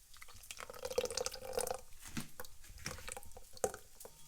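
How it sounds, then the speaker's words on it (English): Tomato sauce from a 15-ounce can is poured into a pan for chilaquiles, making close, wet dripping and squishing liquid sounds in a few uneven surges, with no talk. "So now we add the tomato sauce."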